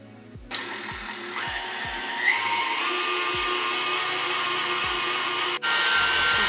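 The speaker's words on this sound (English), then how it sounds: "after beating for a few minutes, you can turn your mixer off" An electric mixer whirs steadily as it beats a vanilla ice cream base. The motor starts abruptly, holds a loud, even drone with rhythmic low thumps, then briefly cuts and returns near the end.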